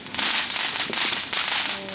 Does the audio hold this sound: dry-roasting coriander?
no